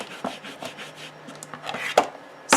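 A rubber stamp is scrubbed on a stamp scrub pad during card making, giving close, soft rhythmic rubbing and dabbing strokes of uneven pace, ending in a sharper tap.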